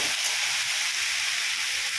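Vegetables for a cauliflower, potato and fish chorchori fry lightly in a pan, giving a soft, steady hiss close by with no voices.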